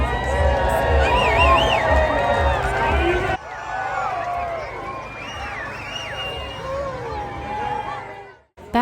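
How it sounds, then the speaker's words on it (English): At an outdoor tree lighting ceremony, a crowd of families and friends cheers and shouts in a dense, loud din with children's high voices, which drops abruptly to a quieter babble of chatter and excited calls. "family and friends joined together to cheer on Rudolph as he led the countdown for the tree to"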